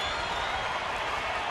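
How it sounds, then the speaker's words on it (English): Crowd at a Rangers baseball stadium roaring for pitcher Justin Grimm in a game against Detroit, a dense, even wash of cheering and applause with no breaks. "Crowd getting behind Justin Grimm and the Rangers"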